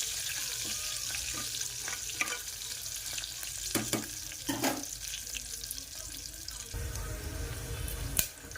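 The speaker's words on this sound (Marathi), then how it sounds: "चांगलं परतवून घ्यायचं" Chillies stir-fried with homemade masala in a pan for chicken biryani, a steady close sizzle and frying hiss with occasional scrapes and clinks of stirring, no talk.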